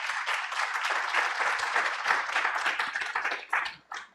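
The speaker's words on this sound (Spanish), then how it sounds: "Un aplauso para él, por favor." Audience applause for a speaker at a human rights conference panel in Peru, dense steady clapping from a crowd filling the room for about four seconds, tapering off near the end.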